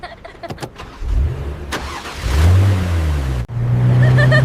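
A car on a family holiday in Barcelona cranks and starts, then its engine idles and revs up, close and loud, with a brief cutout before the hum steadies again.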